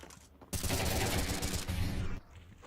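Rapid bursts of gunfire from a Counter-Strike 2 match at IEM Cologne 2024, a dense volley of shots packed into roughly a second and a half, loud and close, cutting in sharply and stopping abruptly.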